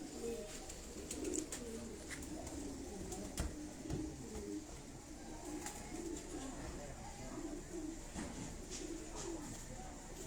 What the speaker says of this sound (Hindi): मैं आपको एक कबूतर दिखा रहा हूँ